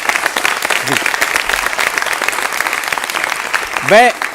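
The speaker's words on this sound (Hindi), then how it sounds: "एक बार जरा अपनी आवाज से और तालियों से जरा पहुंचाइए उन तक ये बात" A studio audience on a religious discussion show applauds steadily in a dense, loud wash, with a few brief vocal cheers or shouts rising over the clapping.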